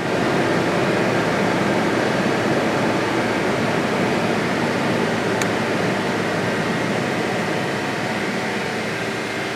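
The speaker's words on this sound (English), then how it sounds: "Going to raise the RPM up" A 2000 Audi A6 with the 2.8L engine held at a raised idle near 2000 RPM, giving a steady, loud, unbroken mechanical roar with no speech over it.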